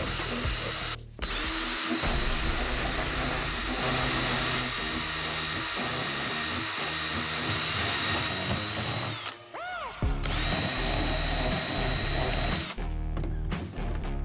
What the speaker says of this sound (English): Now let's just cut across with the drill bit